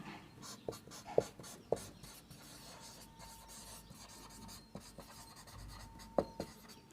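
Handwriting during a classroom lesson on pancreas anatomy: a pen or marker scratches and rubs across a writing surface in short strokes with occasional sharp taps, close and quiet, with little talk.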